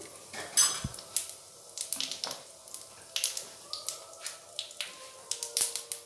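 Dried chilli, cloves, cinnamon and cardamom going into hot oil, with a series of sharp clinks and taps of utensils against a pan over a light sizzle, quiet and close.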